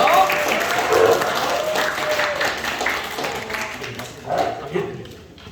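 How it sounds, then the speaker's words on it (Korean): A congregation at a church youth worship service claps to welcome a missionary guest speaker. The applause is dense, continuous and fairly close, and it thins out toward the end. "선교사님 모실 때 다 같이 큰 박수로 열렬히 맞이해 드리겠습니다"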